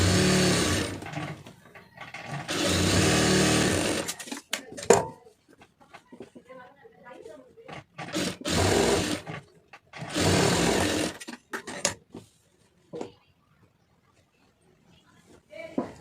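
A sewing machine stitches a plain blouse in several loud, close, steady runs of a few seconds each, separated by pauses in which someone talks and fabric is handled.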